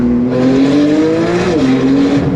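A Porsche sports car is driven hard around a race track, its engine holding a loud, steady, close-up drone that sweeps upward, dips sharply once as the driver shifts or brakes, then climbs again, with no voices over it.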